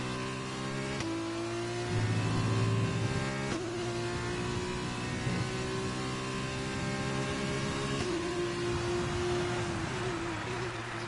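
Race car engines from the F1 2020 video game, including two Renault-style cars running close together, drone steadily and loudly for the whole stretch, their pitch rising with acceleration and shifting at gear changes.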